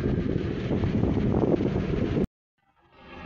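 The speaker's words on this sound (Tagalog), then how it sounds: "Mahangin dito sa Iloilo." Steady, loud wind in Iloilo, Philippines buffets the microphone for about two seconds, then cuts off abruptly, leaving faint ambient sound.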